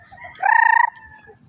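A mother hen with her baby chicks: one short, clear chicken call rises out of quiet farmyard background, close and fairly loud, and no one speaks over it.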